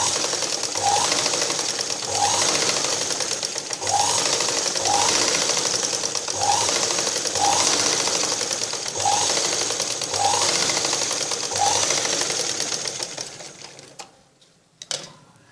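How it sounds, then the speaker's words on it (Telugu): A sewing machine runs steadily while stitching blouse sleeves, a fast, even mechanical chatter with a faint rhythmic thump about every second and a half, close and loud, stopping abruptly near the end. "ఇప్పుడు మిషన్ వర్క్ని ఈ విధంగా ఒక లైన్ స్టిచ్చింగ్ చేసుకోవాలి."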